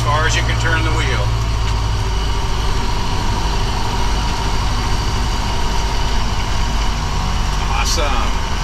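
A Kenworth K100 cabover semi truck idles with a steady, deep diesel rumble while it turns in a wide circle, a constant close drone throughout with a few faint clanks.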